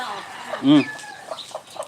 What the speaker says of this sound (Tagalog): Oops, nagre-ready yung manok ah.